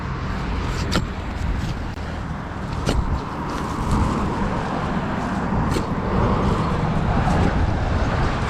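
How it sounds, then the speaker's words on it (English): Steady road traffic rumbles nearby while wind buffets and gusts across an open field, a broad continuous wash of noise with a few sharp knocks. "Sorry about the traffic and the wind."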